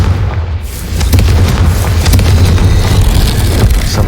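A Confringo blasting spell going off in Hogwarts Legacy, a loud, close explosion that swells after a brief quieter start into a sustained, heavy boom and rumble lasting several seconds.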